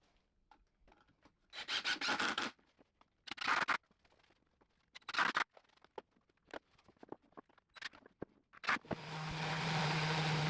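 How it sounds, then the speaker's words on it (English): Several bursts of rasping sandpaper rubbing on 2x4 wood, close by, with short pauses between strokes, ending in a steady hiss. "Give it a last sanding."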